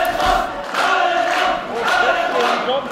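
Crowd at a tag wrestling final shouts and cheers in surging waves, loud and close, with voices rising and falling over the noise.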